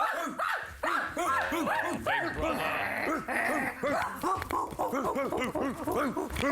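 Several voices yapping and barking in imitation of dogs, rapid and overlapping, loud and close, with excited shouting mixed in.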